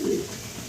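A racer pigeon gives a single short, low coo, close and clear, fading into a faint background hum.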